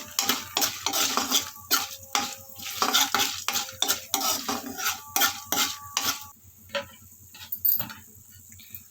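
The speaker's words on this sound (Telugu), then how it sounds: "జీలకర్ర ధనియాలు శనగపప్పు కారానికి సరిపడా ఎండుమిర్చి వేసి వేయించుకోవాలి" Cumin, coriander seeds, chana dal and dried red chillies fry in a pan, heard as a rhythmic series of close metal stirring scrapes and clinks over a light sizzle, easing off near the end.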